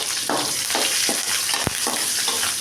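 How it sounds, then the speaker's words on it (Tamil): Green chillies and curry leaves sautéing in hot oil alongside small onions and garlic for an okra gravy, a dense close sizzle broken by rhythmic stirring scrapes and one sharp utensil tap, with no one speaking. "பச்சை மிளகாய், கருவேப்பிலை போட்டுக்கலாங்க."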